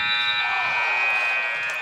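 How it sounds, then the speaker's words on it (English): A loud, sustained electronic basketball game buzzer blares steadily for nearly two seconds, a harsh continuous tone that fades slightly at the end. "I think the buzzer gone off anyway"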